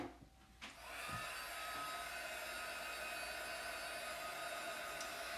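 A hair dryer runs steadily, drying freshly applied ink on a tea towel in a craft setting, with a continuous close, loud blowing hiss after a brief start-up.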